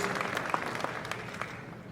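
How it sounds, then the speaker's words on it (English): Steady applause from a crowd at an athletic hall of fame induction ceremony, a continuous patter of many hands clapping at moderate volume. "Let's have a big round of applause, folks"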